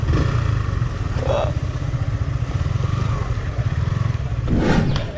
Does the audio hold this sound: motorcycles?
yes